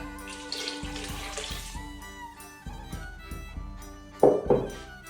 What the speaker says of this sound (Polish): Wlewam do garnka około litra serwatki i około litra wody